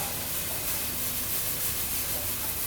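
Chopped celery hits hot oil with frying onion, giving a dense, loud, unbroken hiss that fills the whole short stretch close up, with no voices over it.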